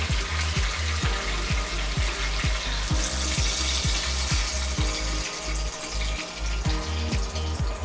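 Pork steak marinade is poured into a hot pan, giving a steady loud sizzle and splash with a rapid, regular clicking pulse running through it.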